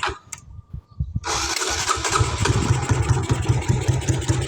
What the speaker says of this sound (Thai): เดี๋ยวสตาร์ทมือให้ฟังอีกรอบครับสตาร์ทติดง่ายนะผม